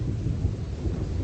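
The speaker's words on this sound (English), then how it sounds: "don't know if you can hear that thunder cracking away in the background" Thunder rumbles low and heavy during a heavy rainstorm, a dense, close roar with rain hiss layered over it for the whole brief moment.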